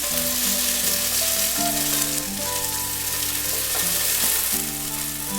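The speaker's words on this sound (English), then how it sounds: "Cook about medium high. Don't want to burn." Vegetables for Italian giambotta cooking in a pan over medium-high heat, a steady dense sizzle running throughout, close and fairly loud, with faint tonal hum in the background and no talk.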